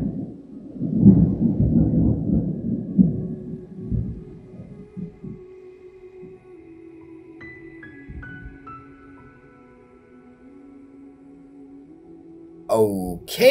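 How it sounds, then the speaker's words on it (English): Loud thunder from a character's lightning skill in the video game Genshin Impact: a heavy, rolling rumble dominates the first few seconds, then fades under sustained game tones, with a sudden sharp burst right at the end. "That is one loud thunder."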